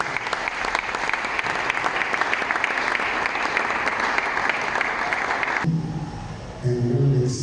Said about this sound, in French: l'évêque régional, Guy Daniel Tsasa, que je demande d'applaudir frénétiquement